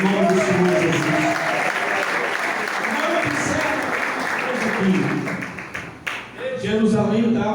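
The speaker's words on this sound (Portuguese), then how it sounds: "Pode aplaudir o nome do Senhor Jesus." A church congregation applauds during a sermon, a dense continuous wash of clapping that stays loud and steady, easing briefly near the end, with voices mixed in underneath.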